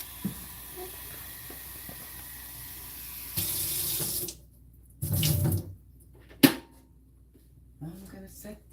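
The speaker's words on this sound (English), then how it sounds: "I just wash some of the salt off" A kitchen tap runs while salt is rinsed off salt mackerel in a sink. The water flows in a steady hiss, then comes in short, louder splashing bursts separated by quiet gaps.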